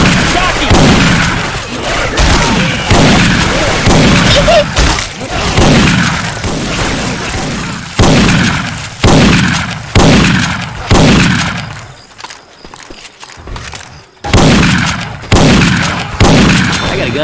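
Syphon Filter weapon sound effects swapped into Left 4 Dead 2, loud bursts of gunfire repeating in quick volleys with sharp cracks and booming tails, a brief lull near the end before shooting resumes.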